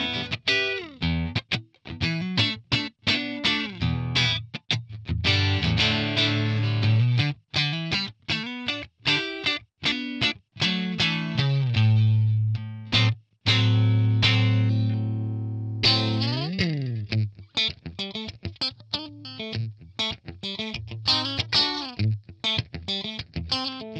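A Stratocaster electric guitar plays through an edge-of-breakup Tonex ONE amp tone with a noise gate and no reverb, heard as loud, lightly overdriven strummed chords and single-note phrases with bends, continuous and alone.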